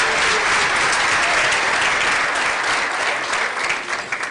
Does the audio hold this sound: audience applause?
yes